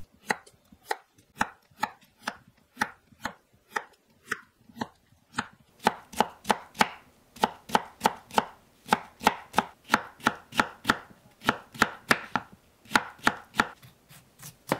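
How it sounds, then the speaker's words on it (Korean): Rapid knife chops as a cucumber is julienned on a cutting board, a steady run of crisp, close taps that quickens to a fast even rhythm, with no talking. "오이 1개를 채 썰어 주세요"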